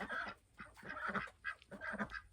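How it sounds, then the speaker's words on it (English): Ducks at a small farm shelter give off a busy run of quacks and honking calls, fairly faint but clear, in irregular bursts with no talk. "The ducks using their little shelter that I made for them."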